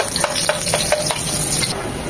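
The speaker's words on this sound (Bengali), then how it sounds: "দিয়ে দিচ্ছি 2 চামচ পেঁয়াজ কুচি।" Chopped onion frying in hot soybean oil in a pan for a fish and cauliflower curry, a steady close sizzle broken by a run of light, regular stirring scrapes, with no voices.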